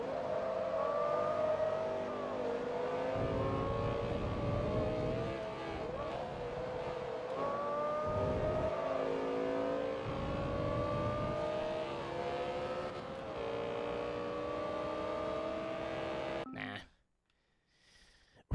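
A race car engine in Forza Motorsport 2 drones loudly and continuously with rising and falling revs through the shifts, under talking, before cutting out abruptly near the end.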